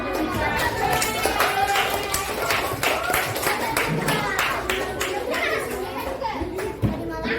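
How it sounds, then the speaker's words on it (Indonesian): Fifth-grade primary school pupils applaud in a classroom, with rapid scattered claps running throughout, mixed with children's chatter and movement. "Beri tepuk tangan"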